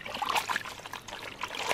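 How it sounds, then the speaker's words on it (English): Water trickles and splashes steadily while dishes are rinsed at a campsite at Broadwater Campground in Queensland, a close, continuous wash of sound with no voices over it. "Okay, rinsing time."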